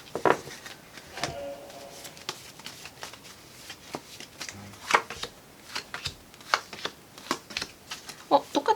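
Tarot cards being shuffled and drawn by hand, a series of crisp close riffles, slaps and flicks in irregular bursts with brief pauses between.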